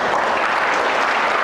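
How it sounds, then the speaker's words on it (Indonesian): Congregation applause at a Catholic Easter Vigil adult baptism in church, a dense, even wash of clapping from many hands, steady and fairly loud throughout the short burst. "Mari kita tepuk tangan dulu"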